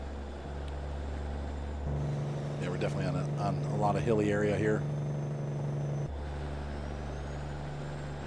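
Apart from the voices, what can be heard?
truck engine in American Truck Simulator video game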